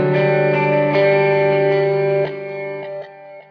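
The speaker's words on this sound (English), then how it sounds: "So you can hear those repeats are really bright." Guitar played through a Line 6 Helix dual delay set bright, sustained distorted chords ringing loudly with crisp repeats that step down in level and trail off near the end, no voices.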